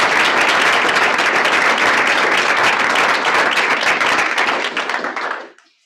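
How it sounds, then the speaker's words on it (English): A meeting audience gives a round of applause: dense, loud clapping from many hands that holds steady, then tapers off and stops abruptly near the end. "Let's give him a round of applause"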